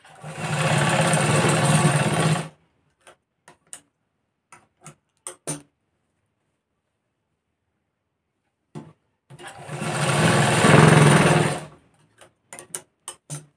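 A sewing machine runs in two sustained bursts, stitching a vertically folded fabric strip for a katori blouse, each run stopping abruptly and followed by scattered clicks and handling taps; no one speaks.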